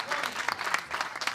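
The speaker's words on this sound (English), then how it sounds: "there's some fans on the Vegas side up in the stands who are cheering a bit more aggressively" Fans in the stands at a professional pickleball match between Chicago and Las Vegas cheer and clap in short, fairly faint bursts, with a commentator's voice mixed underneath.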